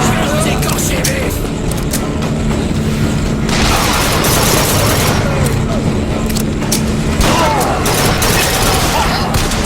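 Gunfire in the video game Bioshock Infinite: a loud, continuous barrage of shots and booming impacts that swells and fades in waves, with voices shouting over the battle.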